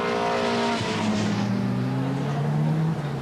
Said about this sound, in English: the tyre is rubbing on the wheel arch